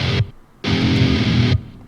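Heavily distorted electric guitar notes picked normally in a metal cover of Ultrakill music: a brief loud burst, a short silence, then a longer sustained, buzzing phrase that cuts off abruptly.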